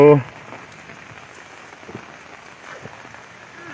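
Rain falls outdoors in a steady, even patter with scattered drops striking nearby surfaces, after a short burst of voice at the very start.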